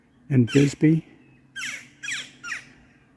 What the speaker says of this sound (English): You will hear a seabird or two in the background.